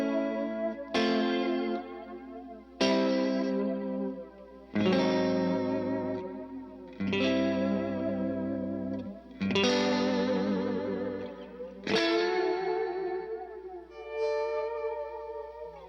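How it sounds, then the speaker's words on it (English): Electro Harmonix effects pedal on its flanger-with-reverb preset, processing a series of sustained guitar-like notes struck about every two seconds, each swelling with sweeping, swirling modulation and a lingering reverb tail, loud and alone. "the third setting is flurb, which is the flanger with the reverb"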